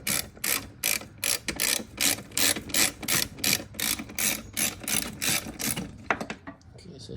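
A hand ratchet loosens the 10 mm bolt on the rear of a fuel filter on a 1996–2000 Honda Civic, giving a steady run of close, crisp clicking bursts in back-and-forth strokes that stop near the end.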